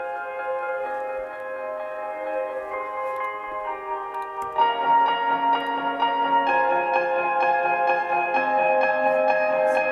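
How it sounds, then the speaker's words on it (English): Two layered pianos, a reversed piano from Omnisphere panned left and another piano on the right, play a sustained melodic passage with swelling notes, building fuller and louder about midway, with no voices. "It's coming from the Omnisphere, and it's a reversed piano."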